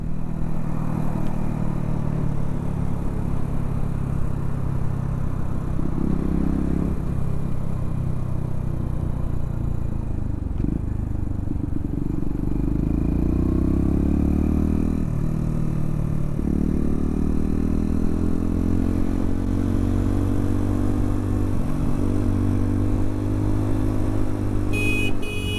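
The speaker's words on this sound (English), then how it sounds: "we got a flow of traffic now" A steady stream of road traffic passing close by, cars and motorbikes droning and swelling as each goes past, with engines revving over a continuous rumble and no talking.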